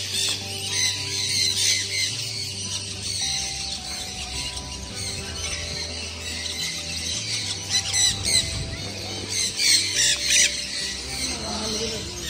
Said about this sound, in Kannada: ಸೊ ಇಲ್ಲಿ ಬರ್ಡ್ಸ್ ಇದೆ.